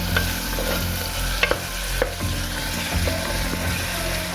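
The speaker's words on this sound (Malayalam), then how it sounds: "നല്ലോണം അങ്ങോട്ട് ഇളക്കുക." Onions stirred and frying in a pan while making khichdi, steady sizzle under a few sharp scrapes and clicks of a utensil against the pan, close and moderately loud, no talking.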